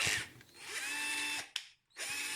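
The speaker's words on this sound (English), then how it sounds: "The drill has plenty of power and it works as expected." A cordless drill converted to a Li-Ion battery pack whirs at high speed close by, spinning down briefly, going silent for a moment, then starting up again.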